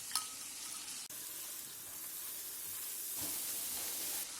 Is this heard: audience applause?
no